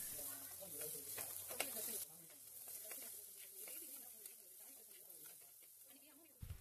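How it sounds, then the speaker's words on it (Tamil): Half a chopped onion fries in oil in a pan for fish curry, a faint soft sizzle with occasional stirring scrapes, close by and quiet. "அந்த பாதி வெங்காயத்தை எடுத்து நல்லா வதக்கிக்கோங்க."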